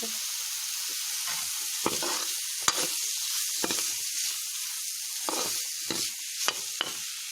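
Amla (Indian gooseberry) sabzi frying with spices in a pan gives off a steady close sizzle, broken by a string of scraping stirs from a spoon about once a second. No voices are heard.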